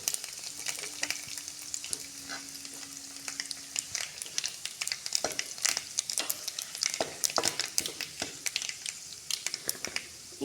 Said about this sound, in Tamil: கடலப்பருப்பு நல்லா பொரியட்டும்